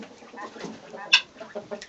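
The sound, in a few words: black hens clucking in barn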